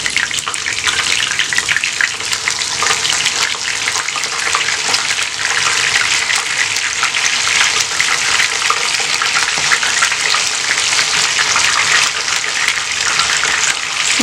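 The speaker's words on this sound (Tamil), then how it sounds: "நல்லா 2 சைடும் வந்து நல்லா கோல்டன் ப்ரௌன் ஆகிற வரைக்கும் வந்து நல்லா ஃப்ரை பண்ணிவிட்டு எடுத்துடலாம்" Chicken wings fry in hot oil, turned to brown on both sides, giving a loud, steady, dense sizzle that runs unbroken throughout with no talking.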